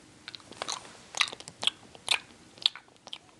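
Crunchy bites and chewing on an orange-flavoured, Flintstones-style chewable candy, heard up close as a series of sharp, crisp crunches spaced irregularly over a few seconds, with no talking.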